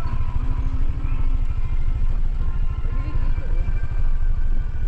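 A motorcycle engine running close by on a hillside path near a waterfall, a loud, steady low throbbing pulse, with people talking over it.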